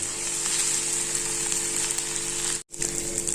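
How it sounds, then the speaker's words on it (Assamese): Onion and carrot frying in a pan for pasta, a continuous bright hiss of sizzling oil at even loudness, broken by one brief cut near the end. "এতিয়া মই অকণমান এইখিনি ভাজি লৈছোঁ"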